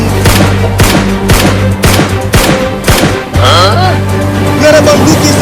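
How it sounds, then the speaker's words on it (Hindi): Cartoon gunfire aimed at a fish: a rapid, loud volley of about nine evenly spaced shots, followed by whooshing, bubbly effects in the second half. "रुको, अभी उस मछली को गोली मारता हूँ।"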